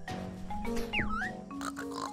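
A pig character in the Nintendo Switch game Yooka-Laylee lets out a cartoonish, squealy oink that sweeps up and down in pitch over game music, with no talk over it.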